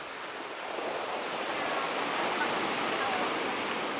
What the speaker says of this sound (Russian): Море нас сегодня встретило немножко штормом.